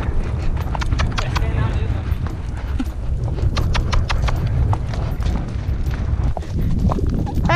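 A horse being ridden on sand, its hooves thudding in a steady clip-clop rhythm close by, with people chatting over the hoofbeats and wind noise throughout.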